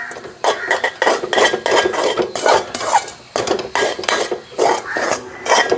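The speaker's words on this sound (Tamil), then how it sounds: "வடிவாக கிண்ட வேணும்." A coconut milk toffee mixture with cardamom powder is stirred in a pan. A spoon scrapes the thickening mass in quick, rhythmic strokes, close and fairly loud, with a grating, rasping texture.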